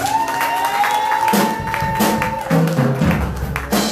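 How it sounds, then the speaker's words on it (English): A church congregation applauds and cheers for children at a children's anniversary service, a dense crowd wash of clapping with whoops and a voice rising over it near the end. "I want you to give my children a round of applause"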